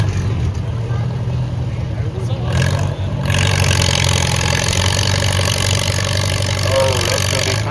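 Antique tractor engine working a 2500–5500 lb power pull at the Chautauqua County antique equipment event, a low steady chugging drone that swells louder after a few seconds and then holds, with crowd voices talking over it.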